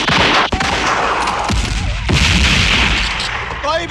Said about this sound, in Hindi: I need covering fire Gurnam, I need covering fire